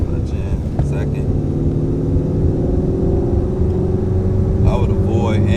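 Mustang GT350 with a manual gearbox pulling away in second gear, a steady close engine drone with a low rumble under a man's spoken instructions.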